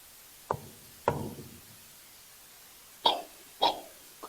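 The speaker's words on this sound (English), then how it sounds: "Is that you knocking?" Four sharp knocks, close and distinct, come in two pairs: two about half a second apart, a pause of two seconds, then two more, each with a short hollow ring-out against a quiet background.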